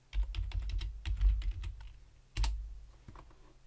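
Quick clicking keystrokes on a computer keyboard come in two short bursts of typing, close and fairly crisp, with no talk.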